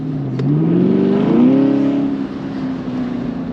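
6th gen Camaro engine with a modified air intake, its airbox cut open, revving up in a rising pitch sweep, then settling into a steady loud drone close by.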